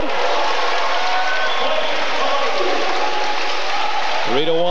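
A crowd roars at a 1994 men's volleyball match between UH and LBS, a sustained loud wash of cheering with a commentator talking over it.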